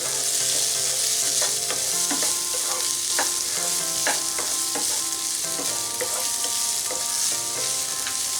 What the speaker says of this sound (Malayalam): ഇതൊന്ന് നമ്മൾ നല്ലപോലെ ഒന്ന് വഴറ്റി കൊടുക്കാം